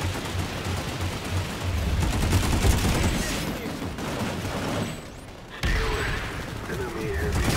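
Video game firefight at a tech plant: dense, continuous gunfire with overlapping bursts and rapid shots forms a loud, crackling wall of noise that briefly thins before resuming, with voices talking over it.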